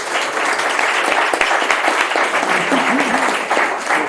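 Sustained audience applause fills the room at a cultural talk in Madrid, a dense, steady wash of clapping lasting several seconds with faint voices mixed in.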